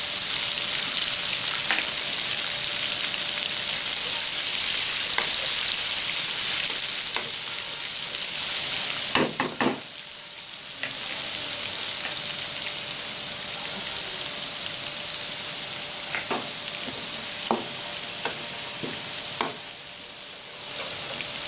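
Cumin, garlic and green onions sizzle steadily in a hot pan as a Hindi-language cook makes a potato fry, with a continuous close hiss broken by scattered clicks and a few stirring knocks, heard without speech.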